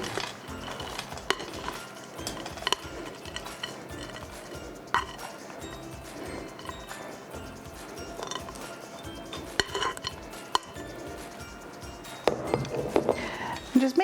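Corn casserole mixture for a cheesy corn casserole with bacon being scraped and spooned from a bowl into a baking dish, with steady clinks of utensil on dishware and soft stirring scrapes in a kitchen, with a person speaking at times.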